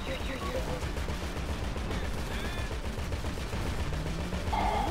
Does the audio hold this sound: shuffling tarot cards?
no